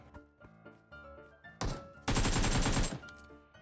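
Video game gunfire, a few short shots early, then a loud sustained automatic burst of around a second near the end, with faint game music and effects running underneath.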